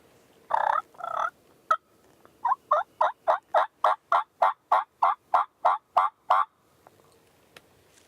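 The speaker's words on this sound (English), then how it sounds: "I hear a hen yelp." A wild turkey hen gives a steady series of about fifteen clear, rhythmic yelps, fairly close, after a couple of longer opening calls.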